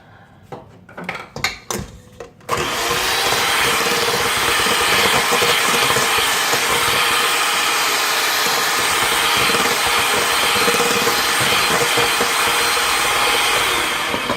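An electric mixer beats lemon cake batter with a loud, steady whir that runs for about twelve seconds, preceded by a few light clinks and knocks.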